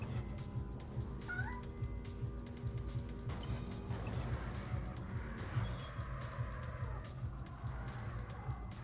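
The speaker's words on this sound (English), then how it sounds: "My cat is being an asshole right now." A cat meows and yowls repeatedly under a steady low mechanical hum and faint background clatter, sounding fairly close but partly buried in the noise.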